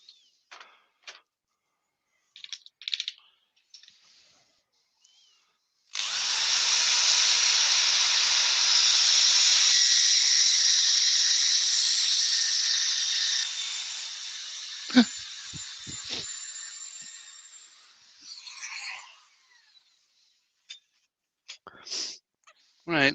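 Sandpaper worked against a wooden bowl up to 240 grit, a sustained rough hiss lasting several seconds that fades gradually, with scattered clicks and handling knocks around it.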